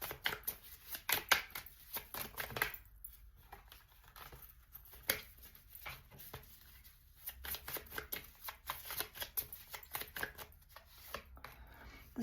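Tarot cards are shuffled and drawn from a deck close by, soft papery riffles, slides and flicks in irregular bursts, fairly quiet with no talking.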